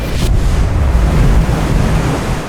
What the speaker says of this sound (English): Today, the weather guards wasn't with us. We have a storm.